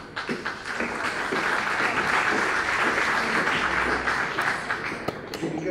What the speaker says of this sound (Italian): forse un applauso eccessivo